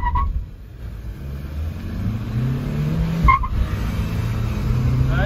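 A Kia Sonet turbo and a Kia Seltos diesel accelerate side by side in a drag race, engines droning and rising in pitch from nearby with brief tire squeals, no talk over them.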